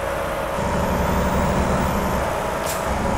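Mack Anthem truck in American Truck Simulator, driven with the window down: a loud, continuous engine drone and road noise, with a brief hiss near the end.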